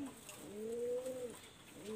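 Pet pigeons cooing: one long, drawn-out coo rises and holds in the middle, with shorter coos at the start and end, fairly close over a soft background hiss.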